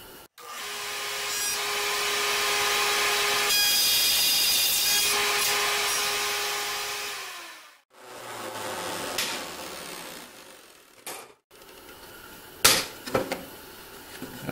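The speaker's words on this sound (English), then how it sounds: "Router has a lot of force and you don't want it to shift your work." A handheld router cuts into wood for a fishing pole rack in a steady, loud whine with a shifting pitch, then breaks into shorter bursts, separate cuts and knocks of the work.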